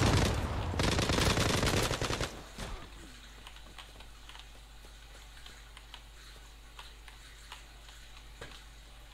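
Planted bomb ticking in a video game: after a loud burst of gunfire in the first two seconds, faint regular ticks continue alone at a steady rhythm over a low background hum.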